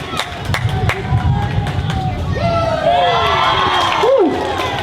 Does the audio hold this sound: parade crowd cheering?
yes